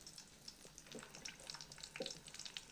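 Onion frying in a pan for a paneer curry, a faint, steady sizzle with scattered soft crackles and small pops, quiet and even throughout with no voices.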